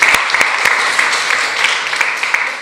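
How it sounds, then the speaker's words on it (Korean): A church congregation at a Sunday worship service in Jeju claps for the young drummers, a loud, close burst of mixed applause lasting a couple of seconds. "우리 박수로 한번 하겠습니다"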